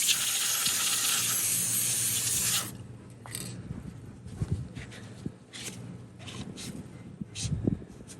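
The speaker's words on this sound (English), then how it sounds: "And then I'm going to use the dry lube for it." An aerosol can of dry lube sprays in a loud, steady hiss for over two seconds onto a vintage Craftsman model 315.7790 drill, followed by quiet handling clicks and taps.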